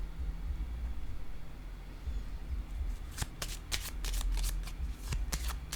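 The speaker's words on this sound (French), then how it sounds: "je vais explorer un peu ces cartes" A deck of playing cards is shuffled close by, a quiet bed of noise giving way midway to a quick run of crisp riffling flutters and snaps that patter on to the end.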